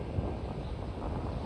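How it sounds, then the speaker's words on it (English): Strong, cold high wind buffeting the microphone outdoors in Voorheesville, a steady low roar with rough gusty rumble, loud and continuous with no voices. "high wind"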